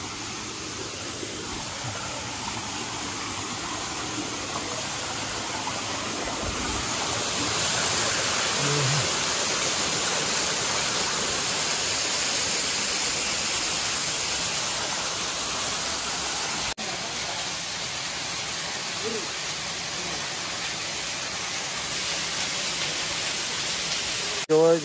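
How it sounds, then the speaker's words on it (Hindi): Steady broadband rush of a waterfall, continuous and moderately loud, with faint voices in the background. "आपको वाटरफॉल का जो साउंड सुनाई दे रहा होगा"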